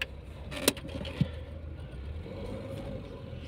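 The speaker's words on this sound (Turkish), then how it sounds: "Şöyle çalıştıralım arabayı." A Peugeot 405 1.9 SRi starts up: two sharp key or starter clicks, then a low, steady engine rumble that settles into an even idle, heard close from inside the car.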